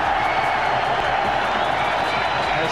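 A cricket stadium crowd roars and cheers in a dense, steady wash of noise that stays loud and even throughout.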